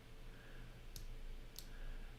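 Two sharp computer mouse clicks about half a second apart, close and crisp, over a faint steady background hum while selecting screws and bolts in an online parts catalog.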